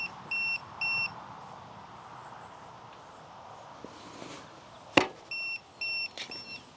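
An Aventon Aventure M mid-drive e-bike's security alarm sounds in short electronic beeps, a pair near the start and another pair near the end, set against a quiet rural background with a sharp knock in between.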